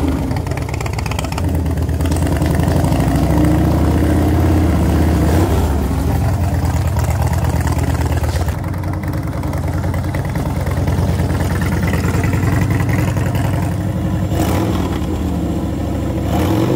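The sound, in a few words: Orange County Chopper motorcycle engine running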